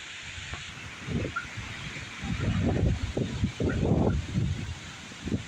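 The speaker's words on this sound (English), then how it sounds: "Look how strong this wind is." Strong, gusty outdoor wind ahead of a thunderstorm roars in uneven surges, with loud buffeting on the microphone and no speech.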